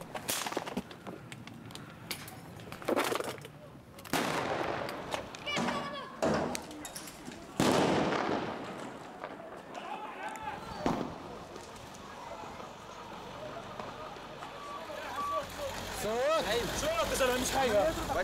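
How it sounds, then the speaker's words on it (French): Live gunfire from army troops just behind a wall, at a protest where tear gas is also in use: sharp, scattered bangs at irregular intervals, mixed with voices and crowd noise. "Ce sont des balles réelles, comme des doum-doum."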